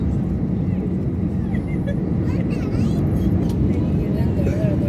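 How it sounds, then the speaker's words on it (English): A Nepal Airlines RNA 225 airliner takes off at full power on its way from Kathmandu, heard from inside the cabin. A loud, steady engine roar fills the clip, and faint voices murmur underneath. "the takeoff is much faster on this flight rather than on the last flight"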